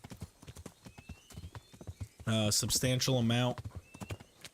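Horse hooves clip-clop in a steady rhythm throughout, in the medieval game Kingdom Come: Deliverance, with a horse's whinny rising loudly midway and a person speaking briefly over the hoofbeats.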